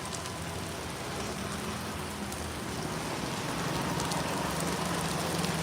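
Rain pours down in a dense, even hiss that holds steady throughout and grows slightly heavier toward the end, with no voices or other sounds breaking through.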